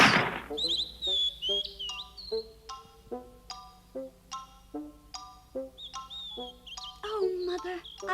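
Springtime birdsong with repeated high chirps and whistled trills, fairly close and clear, over a sustained orchestral or musical backdrop, with a voice briefly speaking near the start.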